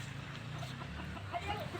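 Faint chickens cluck softly nearby amid low background noise, a few brief calls scattered across a short moment.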